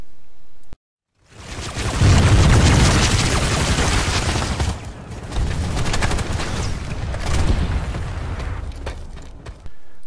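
MSW-R light machine gun from the Terran Republic arsenal fires in Planetside 2, long loud sustained bursts of rapid automatic fire with booming impacts, a brief pause near the start, continuing almost nonstop to the end.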